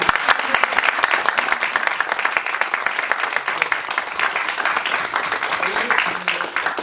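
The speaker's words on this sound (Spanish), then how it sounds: "Pido un aplauso, por favor, para José Miguel." Audience members at a book presentation clap together for the author, a crisp, dense round of applause at close range, with some voices mixed underneath.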